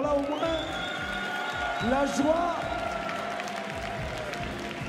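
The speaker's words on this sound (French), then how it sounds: "Applaudissez-les très fort." Applause and cheering from an awards ceremony crowd, a continuous bed of clapping with whoops rising through it, while a speaker talks over the noise.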